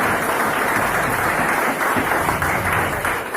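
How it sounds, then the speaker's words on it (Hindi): Hostel students give loud, sustained applause for a classmate at a school gathering in Pilani, a thick continuous clatter of many hands heard close throughout. "मनीष के लिए जोरदार तालियां होनी चाहिए।"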